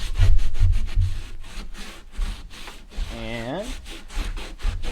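A damp rag is rubbed back and forth over rough-sawn wood, giving repeated loud scrubbing strokes, while a voice speaks briefly partway through.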